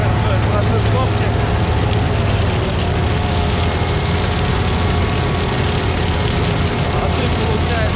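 A sugar beet harvester digs beets in a muddy field, its engine and lifting gear giving a steady loud mechanical rumble with a continuous low drone throughout.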